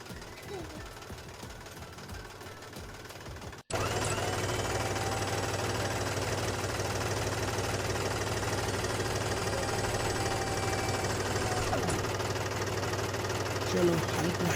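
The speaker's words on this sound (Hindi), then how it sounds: "ट्रैक्टर स्टार्ट कर लिया है और कल्टीवेटर ऊपर कर लिया है" A mini tractor engine fitted with a cultivator fires up after a brief quieter stretch, then runs steadily with a loud, dense, rattling idle that continues to the end.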